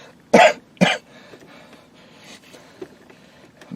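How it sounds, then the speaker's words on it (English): Two sharp, loud coughs from a person, close together near the start, followed by quiet room tone with faint small noises. "mean, I usually don't cough like that."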